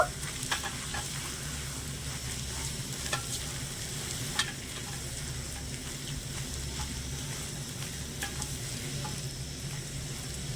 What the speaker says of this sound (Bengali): দিয়ে দিচ্ছি কিছুটা ধনে পাতা কুচি ভালো করে মিশিয়ে নেব